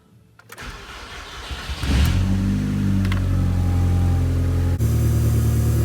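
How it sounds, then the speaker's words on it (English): A Mk2 Volkswagen Scirocco 20vT engine cranks briefly, catches and settles into a steady idle, with a shift in the running note near the end. "I'll just fire the car up"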